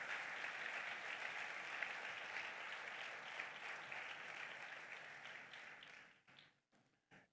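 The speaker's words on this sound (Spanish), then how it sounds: "Dele un aplauso a Él." A church congregation applauds together, a dense, steady wash of clapping that holds strong for several seconds before thinning out into a few scattered final claps and fading to silence.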